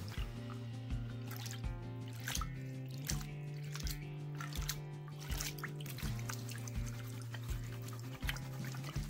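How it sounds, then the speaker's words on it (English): Water sloshes and drips softly in a small gold pan worked in a Georgia stream, with rhythmic wet splashes and trickles repeating over a faint steady low hum. "You gotta kind of time it with the back wave like that to pan out of a small pan like this without making a huge mess."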